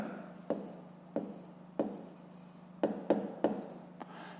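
Handwriting in a school notebook during a 5th-grade math exercise, with short scratchy pen strokes in separate bursts close up and quiet pauses between them.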